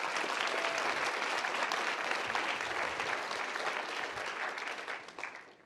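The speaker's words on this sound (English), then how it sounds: "so let's give them a round of applause." An audience at a physics conference slam event breaks into dense, steady applause that holds strong for several seconds and then tapers off toward the end.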